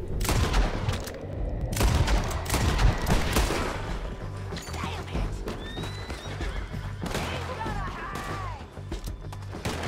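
In the Red Dead Redemption 2 video game, a horse whinnies several times amid loud, dense gunfire in a town shootout, with the neighs rising above the steady barrage.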